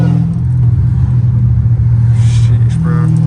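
A straight-piped Dodge Challenger Hellcat Redeye at night drones with a loud, deep engine rumble heard from inside the car, a steady low tone with light throttle changes, and someone speaking over it.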